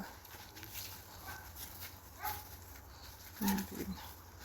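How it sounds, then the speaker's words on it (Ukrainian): A dog barks a couple of times in the distance against a low background hum, faint and intermittent. "Не може встати, гавкає собака."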